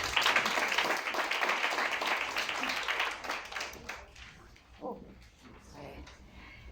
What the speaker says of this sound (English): Please give a round of applause for Buitumelo Bikuto.